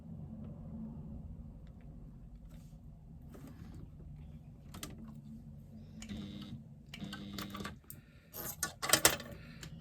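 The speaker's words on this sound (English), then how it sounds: "we're going to top stitch around the outside of our bag, starting along the top edge" Sewing machine top stitching around the outside of a bag, a soft low mechanical whirr running steadily, then sharper clicking and rattling bursts toward the end.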